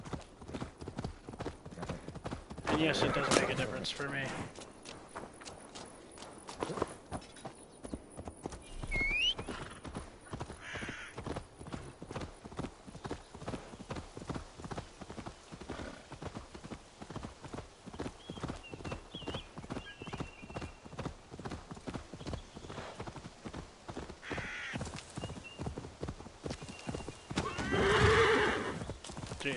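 A horse in Assassin's Creed Valhalla gallops with rapid, steady hoofbeats over nearly thirty seconds and gives a couple of loud neighs, with someone briefly talking over it.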